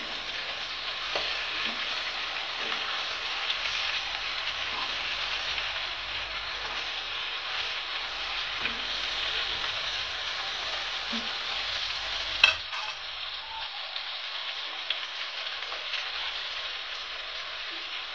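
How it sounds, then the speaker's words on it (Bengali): Hilsa fish frying in oil in a pan, a continuous loud sizzle with faint stirring and a sharp clink of a utensil partway through, close and steady. "মাছগুলো এক পাশ ভাজা হয়ে গেছে,"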